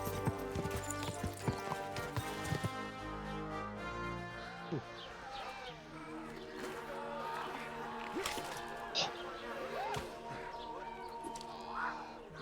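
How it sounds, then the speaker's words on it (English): Horse hooves clip-clop steadily in the medieval video game Kingdom Come: Deliverance 2, with scattered clatters, a brief whinny and other game sounds mixed in, while a player talks intermittently over them. "The horse."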